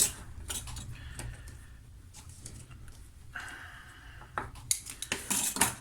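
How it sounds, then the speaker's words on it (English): A metal canister is worked out of a cut-open Fleetguard LF701 oil filter with faint metallic scrapes, taps and jingles, growing into a quick run of clinks at the end. "Let's see if I can get the canister out of here just to show you."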